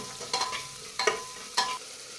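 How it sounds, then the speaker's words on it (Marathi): Field bean seeds sizzle softly in oil as a spoon stirs them in three quick scraping strokes, near and fairly quiet. "दोन मिनिट हे दाणे तेलामध्ये भाजून घ्यायचे"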